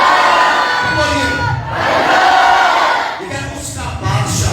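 A church congregation shouts and cheers loudly together in response to a preacher, a dense crowd roar that swells, dips briefly, then rises again with whoops near the end.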